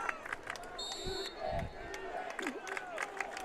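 A big crowd at a Kentucky high school football game, Prestonsburg playing, makes a steady murmur with scattered shouts and a brief electronic tone, while a commentator talks over the stands.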